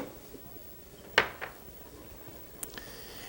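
A heavy metal pot is set down on a gas flame with one sharp clank, followed by a softer knock and a faint later tap, quiet kitchen background otherwise.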